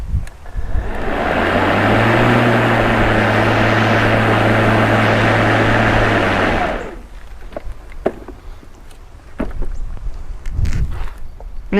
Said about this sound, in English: electric mower, battery mower in this case